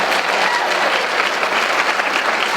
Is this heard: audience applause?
yes